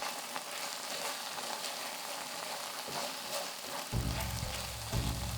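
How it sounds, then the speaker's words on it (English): Seafood mix and cabbage stir-frying on a griddle for Tokyo-style monjayaki, a steady close sizzle with a few bursts of louder hissing and scraping as the ingredients are turned. "add the seafood mix that was set aside and stir-fry it together with the cabbage"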